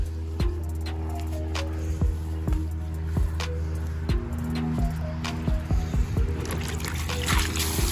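Water pours and trickles inside a Florida box turtle tank setup, a steady liquid stream with intermittent splashy drips and small knocks, close by and moderately quiet.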